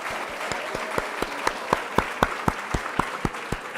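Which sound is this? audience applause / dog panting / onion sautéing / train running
audience applause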